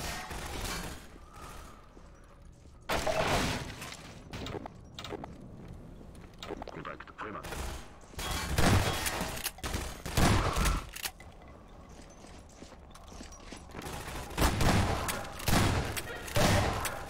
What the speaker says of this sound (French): Allez, qui me tire dessus.